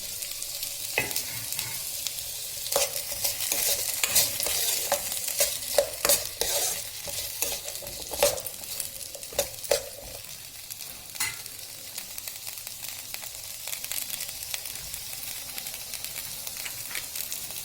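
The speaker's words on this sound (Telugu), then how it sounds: "కొంచెం ఫ్రై అయిన తర్వాత టమాటో వేయాలి." Oil sizzles steadily as a spoon stirs and scrapes through onions and spices in a pan for mint rice, close up, with frequent clinks and scrapes over the constant frying hiss before tomato goes in.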